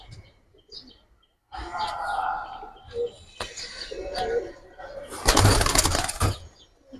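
Giribaz pigeons shift about and flutter their wings in a crowded loft, with soft coos and chirps, scattered wing flaps and a louder burst of flapping near the end, while people talk nearby.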